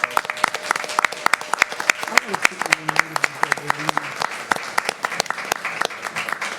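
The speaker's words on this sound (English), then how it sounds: "Please stand up, and let's give them a round of applause also." At a board of commissioners meeting, an audience gives a round of applause, with crisp individual claps standing out over a steady clapping bed and some voices underneath.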